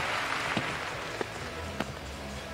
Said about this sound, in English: On the scoreboard opposite myself and Peter, there's a screen saying clap, clap, clap to the audience, and they are responding